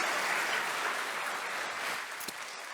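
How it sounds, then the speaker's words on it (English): Audience applause for speaker Lucas de Man after a lecture, a steady wash of many hands clapping that tapers slightly near the end, with one brief sharp knock. "Nice round of applause for Lucas Leman."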